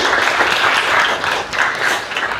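Audience applause fills a classroom-style performance session in Indonesia, with steady, dense clapping from a crowd throughout, loud and close, no voices over it.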